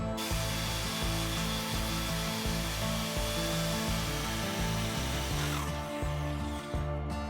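A drill fitted with a hole saw bores through wood during a battery installation, a loud continuous grinding whine with a steady rhythmic chatter from the cutting teeth, ending abruptly as the drill stops.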